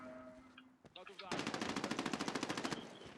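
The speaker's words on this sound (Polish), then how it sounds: "słyszę tu strzały" Rapid automatic gunfire from a Medal of Honor: Warfighter multiplayer match, a sustained burst of evenly spaced loud shots lasting over a second, preceded by a few scattered game sounds and effects.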